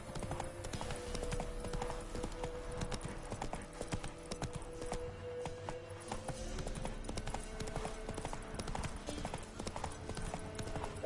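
Horse hooves pound continuously at a galloping rhythm in The Witcher 3 video game, dense and steady throughout, with faint ambient game sound underneath.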